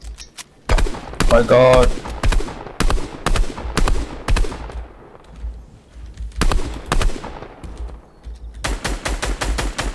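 Repeated bursts of gunfire in Fortnite Battle Royale, sharp rapid volleys spread across the span with loud clusters near the start and end, while players talk over the shooting.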